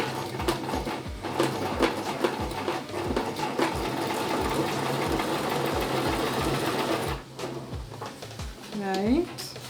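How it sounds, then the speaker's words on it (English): A sewing machine zigzag stitching a bag made from jeans, running slowly with a steady rhythmic chatter of needle strokes, close by, pausing briefly near the end as a voice speaks. "I sew it on with a zigzag stitch"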